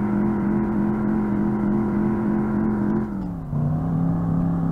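A car engine in the video game Revhead holds a steady droning hum at constant revs, then its pitch dips briefly as the throttle eases before settling back to a lower steady drone.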